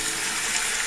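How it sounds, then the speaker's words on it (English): Water splashed into a hot pan of cabbage and tofu vegan dumplings that are pan-frying golden brown, a loud, dense hiss and sizzle of sputtering liquid filling the whole moment, with no talking. "then we put a bit of water in"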